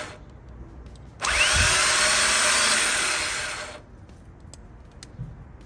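The engine of a 2000 Harley-Davidson FXDX, out of the frame on a bench and spun over by a jumped starter, gives one loud, steady whirring crank of about two and a half seconds, with no other sounds.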